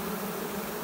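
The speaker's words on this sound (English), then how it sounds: "just sucking giant clusters of bees in the vac" Bees buzz in a steady, dense drone inside a basement workshop, close and continuous for a brief moment with no other sounds.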